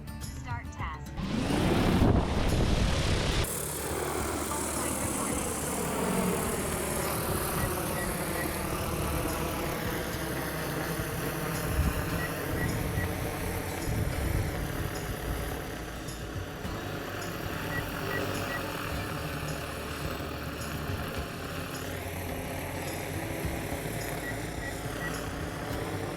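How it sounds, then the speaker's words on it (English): A DJI Agras T50 agricultural spraying drone spins up and lifts off outdoors, a loud steady whirring rotor drone with shifting pitch over wind noise, after a brief burst of handling noise at the start. "Aircraft preparing to take off."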